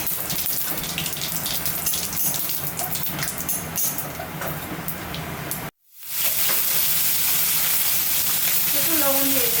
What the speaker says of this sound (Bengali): তেলটা গরম হয়ে গেছে, শুকনো লঙ্কা, জিরে আর তেজপাতা ফোড়ন দিয়ে দেব